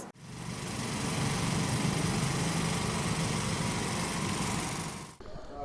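Motorcycles push through a road under construction at a Palembang bridge access road, their engines giving a steady, loud, buzzing drone for about five seconds before it cuts off abruptly.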